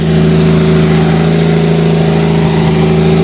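A 1987 Toyota Supra with a swapped 2JZ-GE engine runs loud and close, its steady droning idle rising slightly as the throttle is blipped, with no talk over it.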